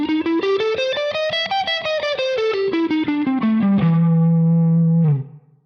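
A distorted electric guitar plays a quick blues pentatonic run of single notes, climbing then descending, ending on a sustained held note that rings out and cuts off.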